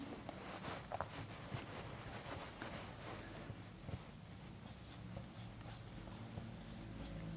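A pen or marker writes the word "troughs" during a physics lesson, a faint continuous scratching with small strokes and taps spread through the whole stretch, quiet and close against low room noise, with no talk.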